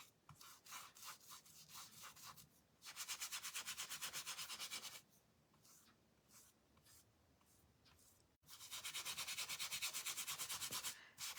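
Paintbrush scrubbing paint into a wooden Christmas door hanger, a close, quiet bristly rubbing in fast even back-and-forth strokes, coming in two longer bursts with softer scratching between them.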